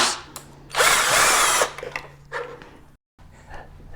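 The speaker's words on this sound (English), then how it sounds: "Then we install back these two screws." A power drill/driver drives screws back into an electric unicycle, a Veteran Patton-S or Lynx-S: one loud whirring burst of about a second, then a few short, fainter zips and clicks close by.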